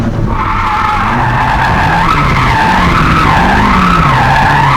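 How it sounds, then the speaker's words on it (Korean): A tuned car with a slipping clutch in third gear revs hard and rises and falls in pitch, loud and close, with a tire-squeal-like whine and no talking. "3단을 타다 보면은 슬립이 납니다"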